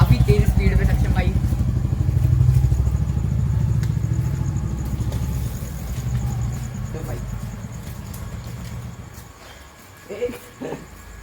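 Two motorcycles, a Meteor and a Classic, rumble at close range in a sound test. A low, steady thumping idle runs through most of the stretch and then fades toward the end, while people talk over it.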